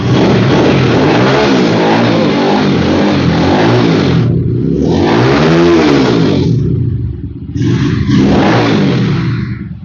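A GSR Movister 500 motorcycle engine revs hard, climbing and falling in pitch several times, with two short drops in roar between the bursts.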